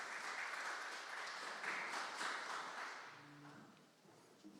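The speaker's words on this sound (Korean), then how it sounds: "영광의 박수 올려드리겠습니다." Applause from a church congregation at a Sunday worship service in Dortmund, a soft wash of clapping for about three seconds that fades away, leaving a few faint tones.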